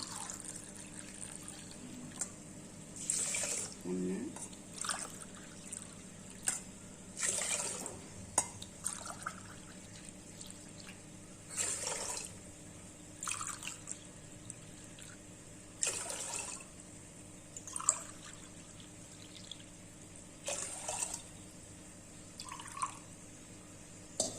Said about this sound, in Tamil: ஒரு அஞ்சு டம்ளர் தண்ணி ஊற்றிக்கலாம்